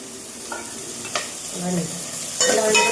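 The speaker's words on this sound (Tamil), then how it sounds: "உப்பு போட்டு நல்லா வதக்கிக்கலாம்" Sliced onions with salt sauté in an oily pan for kara kuzhambu, a close sizzle broken by several scraping stirs of a spoon.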